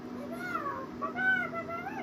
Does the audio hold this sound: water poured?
no